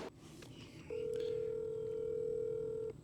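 A telephone placing a call from an off-grid barn house: a short tone, then a steady dial or ringback tone held for about two seconds before it stops, heard close and clear.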